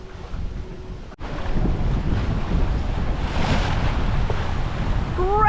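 A sailboat runs under way on a shakedown sail to Prony Bay in New Caledonia, with steady rushing wind and water noise, a brief dropout near the start and a few faint tones at the end.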